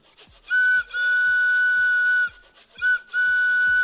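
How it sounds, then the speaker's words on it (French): A slide whistle played as foley for a toy train, with steady high whistling tones in two long bursts, a short chirp between them, and soft rhythmic brushing from a broom beneath. "Donc je vais utiliser un balai et une flûte à coulisses."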